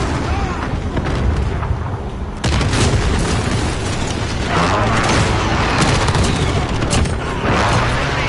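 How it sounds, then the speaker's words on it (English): Airstrike in a Call of Duty–style video game: heavy booms and crackling blasts over constant battlefield noise, loud and close, with a sudden surge of explosions partway through and game radio voices under it. "Allied airstrike incoming."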